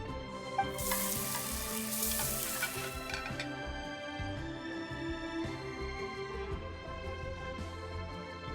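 Food fries and sizzles during cooking in Genshin Impact, a bright hissing burst up front that settles into a quieter crackle over steady background music.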